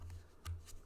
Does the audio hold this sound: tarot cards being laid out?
yes